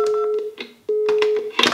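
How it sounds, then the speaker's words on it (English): A steady telephone line tone heard through a handset connected at a crossbar exchange, holding as a sustained pitch that breaks off briefly twice amid clicks and switching noise, then a burst of harsher noise near the end. "if I connect here and take the phone up, yes, I can hear the tone."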